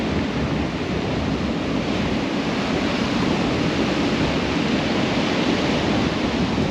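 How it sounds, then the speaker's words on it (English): Big ocean surf breaking on a beach, a continuous loud roar of churning waves and wash, with no talking. "Plenty of depth in there and then loads of surf coming at us."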